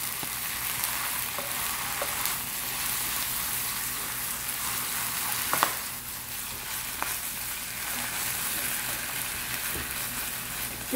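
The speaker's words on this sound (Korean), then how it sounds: "참기름을 넣고 자 요걸 넣고 미역을 볶을게요" Soaked seaweed stir-frying in sesame oil in a pan, a steady close sizzle and crackle throughout with a few brief clinks of stirring.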